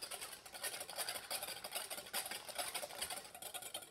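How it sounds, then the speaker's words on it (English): Hollandaise sauce is whisked in a bowl set over water on low heat, a continuous faint scraping swish of the whisk against the bowl in a quick steady rhythm. "So all we do is we just whisk this."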